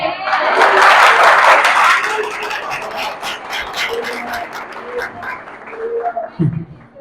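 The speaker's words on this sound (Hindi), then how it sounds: "ताली बजाओ" A church congregation at a Sunday service breaks into loud clapping that fades over several seconds, with talk continuing beneath and after it.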